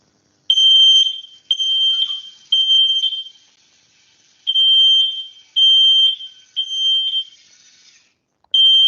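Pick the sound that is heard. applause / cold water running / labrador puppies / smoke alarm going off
smoke alarm going off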